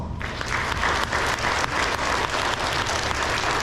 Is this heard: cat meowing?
no